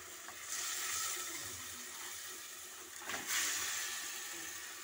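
Broth poured into a pan of frying coriander and fennel seeds for a gourd-stem curry, a steady rushing pour with a brief splash surge near the end, no talk.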